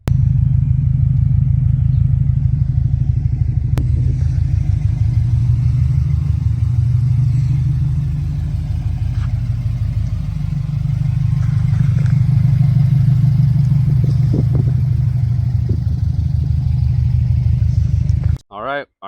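A Subaru STI hatchback's engine rumbles continuously while driving, a loud, close, pulsing low drone with small swells in revs, cutting off abruptly at the very end.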